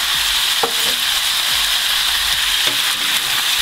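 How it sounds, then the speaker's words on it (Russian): Onion and liver frying in a pan, a steady hiss of sizzling fat across the whole span with a few soft scrapes and knocks as the pieces are stirred, close by and without speech. "отправляем лук."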